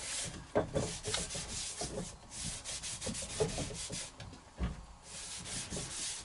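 Shellac being rubbed by hand into a wooden walking stick, a soft, steady scuffing and swishing of cloth on wood with irregular strokes, close and fairly quiet, no talking.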